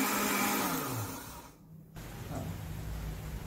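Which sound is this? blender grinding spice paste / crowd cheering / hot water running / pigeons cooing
blender grinding spice paste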